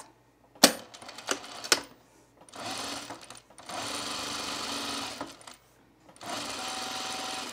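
A sewing machine stitches through folded fabric for a tucked top, running in short bursts with brief pauses between, close and fairly loud with a few sharp clicks at the start.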